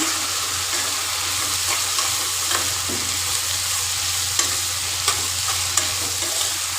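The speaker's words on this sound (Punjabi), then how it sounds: "ਲਓ ਜੀ ਹੁਣ ਆਪਾਂ ਇਹ ਵੀ ਪਾ ਲੇ ਹੁਣ ਇਹਨਾਂ ਨੂੰ ਭੁੰਨ ਲਾਂਗੇ ਥੋੜਾ ਟਾਈਮ" Onions sauté in a hot pan with a constant loud sizzle and frequent scrapes and taps of a stirring spoon, heard up close with no talking.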